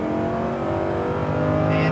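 A Lamborghini Huracan on a track accelerates as the throttle is squeezed, its engine producing a loud, steady droning roar that builds slightly in pitch, with a faint tire squeal near the end.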